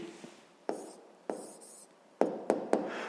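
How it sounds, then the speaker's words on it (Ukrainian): A pen writes an answer by hand on paper in short, close scratching strokes, with two separate strokes and then a quicker cluster of three, each ending with a sharp touch on the page. "а зараз давайте тоді запишемо відповідь. Записуємо відповідь."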